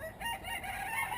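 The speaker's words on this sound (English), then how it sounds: "excuse the chickens in the background" A rooster crows in the background, a drawn-out call with other chickens faintly clucking around it.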